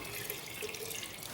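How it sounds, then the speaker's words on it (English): Water pours steadily into the drum of a Frankford Arsenal stainless media rotary tumbler, making a continuous close hiss and splash with no talking. "Let's put some water in."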